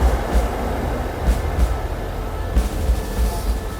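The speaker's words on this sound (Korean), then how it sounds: "기차 보인다." A train passes at a Thai railway station, a steady rumbling roar with low heavy thuds and rhythmic wheel clatter, close and loud throughout.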